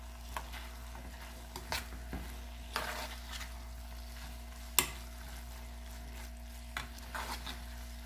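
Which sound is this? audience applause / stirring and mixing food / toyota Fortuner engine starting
stirring and mixing food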